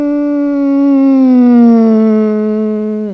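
A loud, steady humming tone slides gradually downward in pitch, like a car passing close by, ending abruptly after about three seconds.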